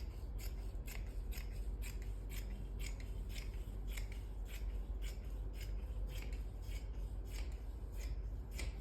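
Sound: scissors cutting printed suit fabric

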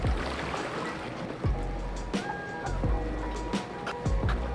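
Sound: swimming laps in a hotel pool

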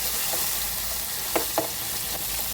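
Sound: stir-frying curry paste in a pan

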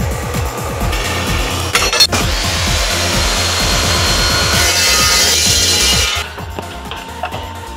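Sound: saw cutting extruded aluminum profile

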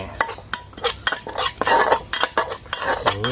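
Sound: stir-frying Thai curry paste in a hot pan

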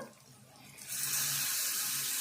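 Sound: water poured into cooking pot

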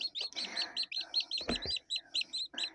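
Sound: newly hatched chicks chirping

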